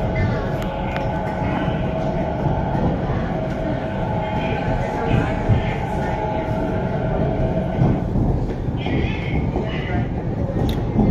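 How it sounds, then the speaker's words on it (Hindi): Steady rumbling inside a moving Navi Mumbai metro train, with continuous low engine and track noise and faint chimes or announcements in the background. "मेट्रो ट्रेन में हूँ।"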